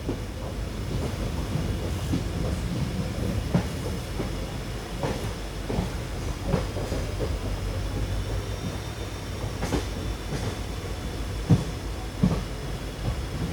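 An express train on the Mangaluru–Bengaluru line rolls into Subramania Road station with a continuous low rumble, soft wheel clicks and occasional metallic knocks from the carriages.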